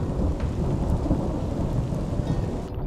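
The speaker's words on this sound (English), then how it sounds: "This is quite a bit of rain." Heavy rain pours down hard on a hiking trail in Yosemite, a dense, loud, continuous roar of drops with a deep rumbling undertone.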